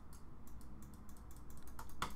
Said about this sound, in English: I'm clicking all over the place here